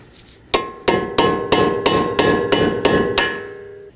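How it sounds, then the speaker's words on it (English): A hammer drives a chisel against the lip of the front axle nut on a 2020-era Toyota Corolla, about nine sharp metallic strikes in an even rhythm, loud and close, with ringing between blows. "strike it in using a hammer and chisel to secure it"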